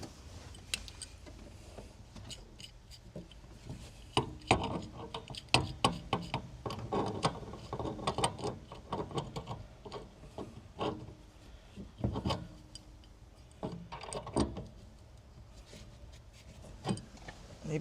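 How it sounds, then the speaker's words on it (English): Irregular metallic scrapes, clanks and knocks come from a wrench working on a gas pedal bracket for a drive-by-wire pedal swap in a 1965 Chevrolet El Camino with an LS engine, close and uneven. "Let me see if I get a wrench on that and bend it."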